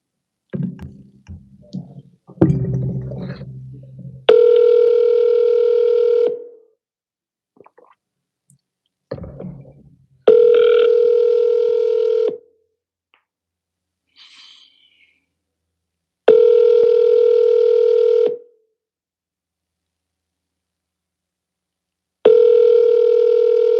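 Phone call to a Zillow for-sale-by-owner listing: a few quick handling noises, then a repeating ringback tone sounding in long, regular bursts separated by silent gaps, close and clear.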